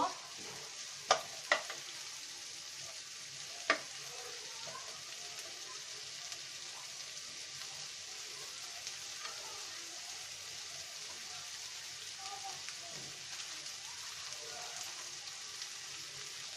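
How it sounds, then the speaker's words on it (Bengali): Onions frying in a pan until brown, a quiet continuous sizzle with a few sharp utensil clicks near the start and occasional soft stirring scrapes. "আমরা এখন আমাদের পেঁয়াজটাকে ব্রাউন কালার করে ভেজে নিব"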